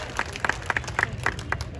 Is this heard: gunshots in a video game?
no